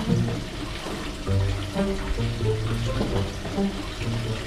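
Tap water runs steadily into a container being filled for washing, a continuous splashing stream, with low voices talking faintly beneath it.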